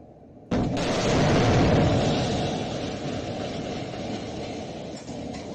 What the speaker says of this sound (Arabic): لمشاهد توثق لحظة تفجير منزل الأسير خالد خروشة شرقي نابلس.